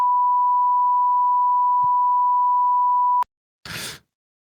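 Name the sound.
long censor beep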